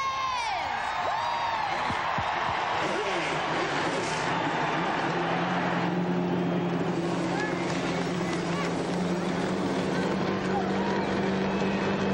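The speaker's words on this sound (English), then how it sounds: "start your engines!" Forty-three NASCAR Winston Cup stock car engines firing up at Daytona for the 2001 Pepsi 400, a dense loud roar building and settling into a steady idle drone, with a crowd cheering and a voice over the start.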